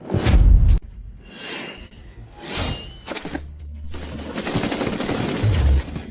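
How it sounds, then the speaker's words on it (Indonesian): Gunfire in a crime drama scene, with several sharp bursts followed by a sustained rattling volley, loud and close with whooshes and impacts and no talk. "Siapa brengsek yang tembak tadi?"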